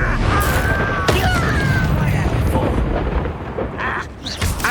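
An Incendio fire spell in Hogwarts Legacy bursts with a loud, roaring whoosh and booming crackle amid ongoing combat, continuous and close for a few seconds.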